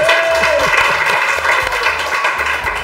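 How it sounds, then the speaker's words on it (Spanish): A studio audience on a Spanish television game show claps, with loud, dense applause running continuously under music and a brief whooping tone. "Bien, aplauso para Leo"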